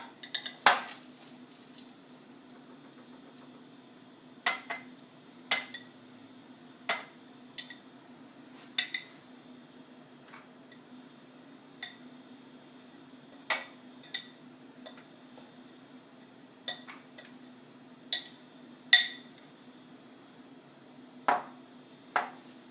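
Canned tuna is chopped up in a bowl with a utensil, giving scattered sharp clicks and taps against the dish at an irregular pace, faint and near over a quiet background.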